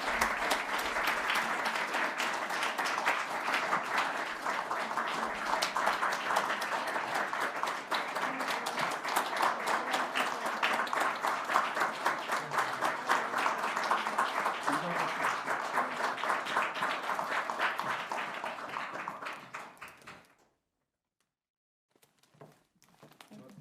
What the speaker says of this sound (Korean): 제가 옆에서 박수 치겠습니다